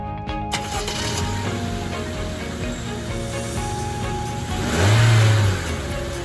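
A car engine starts, idles steadily, revs up loudly once near the end and then shuts off, heard close with no one talking.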